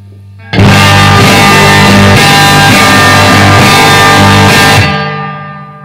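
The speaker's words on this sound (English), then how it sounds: "if you want to use effects with the power amp distortion, here's how it sounds." Electric guitar played through a tube amp cranked into power tube distortion with effects in the chain, a loud sustained chord wash that rings for several seconds and then fades out.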